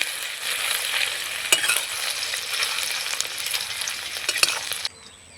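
Tempering spices and chopped ginger frying in hot oil for a dalia khichuri, a loud, dense, continuous sizzle with crackles and stirring scrapes that cuts off abruptly near the end, no talk.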